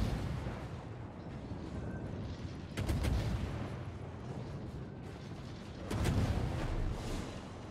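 Naval gunfire from a destroyer in a warship video game, with two heavy booming salvos several seconds apart over a constant rumbling battle background.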